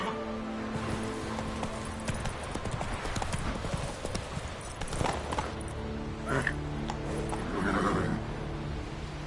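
In a video game the horse Roach gallops, hooves pounding in a fast, loud clip-clop rhythm over music, with a rider speaking briefly partway through.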